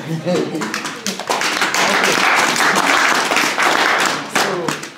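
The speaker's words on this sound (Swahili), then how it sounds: "Hata msaidia hata kupiga makofi." An audience claps at the close of a sexual health workshop for an orphan care group, a dense patter of hands that swells and holds for several seconds while voices talk and sing over it.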